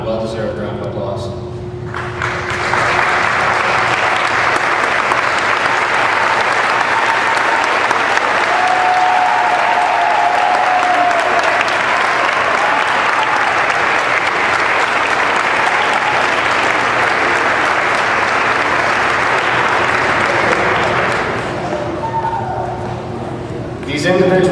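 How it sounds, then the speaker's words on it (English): A graduation ceremony audience at Dominican College gives sustained applause, a dense, loud wash of clapping that swells in after a couple of seconds and holds steadily for about twenty seconds before tapering off. "giving them a nod and a well-deserved round of applause"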